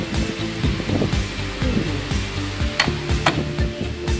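A rough grinding wheel on a glass designing machine works a piece of glass, giving a continuous loud whirring hiss with steady hum tones and irregular scraping surges.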